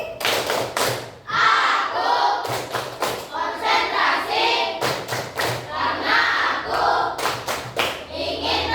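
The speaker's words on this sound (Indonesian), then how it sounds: "Tepuk konsentrasi." Tepuk konsentrasi, a rhythmic clapping game in an Indonesian classroom, with a group clapping in crisp patterned bursts between loud chanted group voices, repeated steadily throughout.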